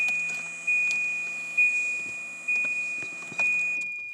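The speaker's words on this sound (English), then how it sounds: "I hear the dinging" A Volvo 940 warning chime: a steady high electronic tone with a soft ding repeating about every second, alone with faint background hum.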